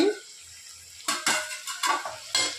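Goat leg curry being stirred in a pan, starting quiet and then giving a series of sharp scraping and clattering strokes, close and distinct, with a light sizzle underneath.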